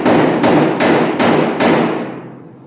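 A hammer strikes a tack-welded car body panel five times in a steady rhythm. Each close, loud metallic blow rings briefly before the next, and the final ring fades out.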